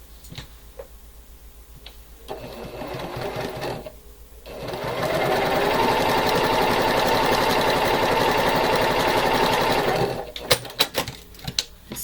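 A sewing machine stitches quilt pieces corner to corner, first in short whirring runs, then in one long steady hum of rapid needle ticks lasting about six seconds, ending with a few sharp clicks.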